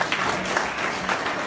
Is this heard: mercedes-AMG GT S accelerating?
no